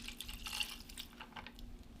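Green wormwood liqueur pours into a cocktail, a faint, steady liquid trickle with small drips lasting a couple of seconds, fairly quiet and heard alone.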